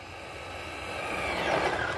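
A Traxxas Mini Maxx RC monster truck speeds past at full throttle, its high electric-motor whine swelling louder as it approaches and peaks, then easing slightly, with no talk.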